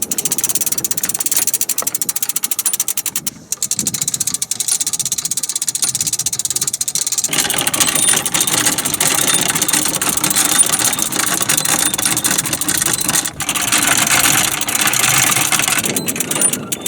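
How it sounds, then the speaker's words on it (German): A sailboat's engine runs in a quiet bay off Croatia's Kornati Islands while the anchor comes up, a steady mid-pitched motor drone with rattling and clanking from the anchor gear, loud and continuous throughout. "Die wunderschöne stille Bucht machen wir jetzt Krach. Wir haben den Motor abgelassen"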